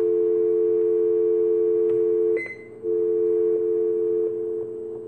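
RCA amplified phone on speakerphone giving a loud, steady electronic tone, briefly interrupted by a click and a short dip before the continuous tone resumes, with no talking.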